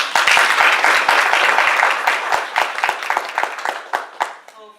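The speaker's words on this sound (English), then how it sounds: "can we clap for" Conference audience at a food and agriculture dialogue claps steadily, a full burst of applause that holds, then loosens into scattered claps before fading out.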